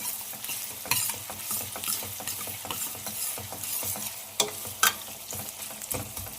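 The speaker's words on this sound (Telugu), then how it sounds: "ఉల్లిపాయ అనేది మనకు బాగా బ్రౌన్ కలర్లోకి వచ్చేంత వరకు ఫ్రై చేసుకోవాలి." Sliced onions and green chilies fry in a pan toward browning, a constant close sizzle under repeated rhythmic scraping and clatter of a spatula stirring, with two sharper knocks near the end.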